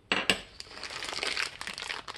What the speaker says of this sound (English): let's take things out of plastic bags first, shall we?